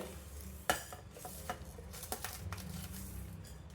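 Coriander seeds, cumin and fenugreek dry-roasting in a pan while a utensil stirs them, giving soft scraping, clinking and rustling with one sharper knock near the start, close and fairly quiet with no talking.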